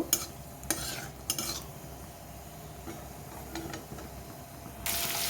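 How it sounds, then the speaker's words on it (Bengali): Nigella seeds fry in oil in a wok, giving a faint, steady sizzle under quiet scraping of a spoon. A few sharp metal clinks break in, and the hiss grows slightly at the end. "আমি কড়াইয়ের মধ্যে তেল দিয়ে দিলাম, আর দিয়ে দিলাম কালো জিরে ফোড়ন। কালো জিরেটা একটু ভেজে নেব।"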